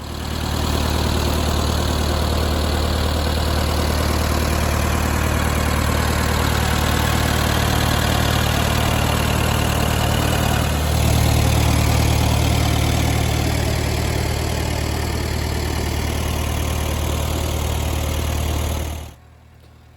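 A David Brown tractor engine drones steadily and loud while pulling discs through an overgrown wildflower meadow, with a slight surge in load around the middle before cutting off near the end.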